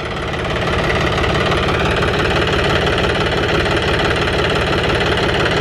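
A John Deere tractor with a three-cylinder engine and dual power collar shift runs close by, giving a loud, steady, knocking diesel rumble that holds throughout.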